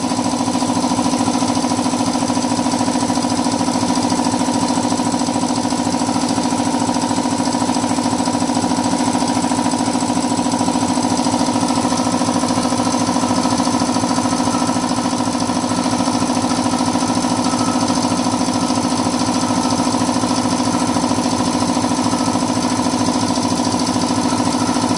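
Belt drive air compressors, a Stanley 190 lpm and a Blackridge BRC155, running flat out side by side, a loud steady mechanical drone with rapid pumping pulses and humming tones, unbroken for the whole stretch.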